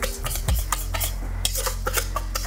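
Vegan baked mashed potatoes being mixed in a bowl with a spoon: scraping, clinking utensil taps and soft stirring against the dish, irregular and fairly close, with no talk.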